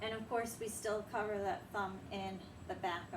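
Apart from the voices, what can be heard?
No distinct noise like a dog, phone or traffic.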